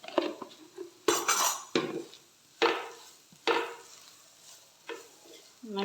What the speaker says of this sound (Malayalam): നല്ലോണം വഴറ്റിയെടുക്കുകയാണ്